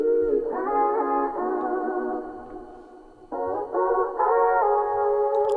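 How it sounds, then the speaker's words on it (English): A reverb-soaked vocal chop in an emotional beat, sustained pitched vocal tones shifting between a few held notes, with echoing tails, heard alone over faint low rhythmic hits. "And I added a second vocal chop that sounds like this."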